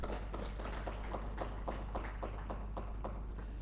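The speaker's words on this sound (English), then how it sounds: "Didn't we need to give those panelists another bigger round of applause?" Conference audience clapping for energy efficiency and electric mobility panelists, a thin scattering of individual claps at a moderate pace, fairly distant over a steady low hum.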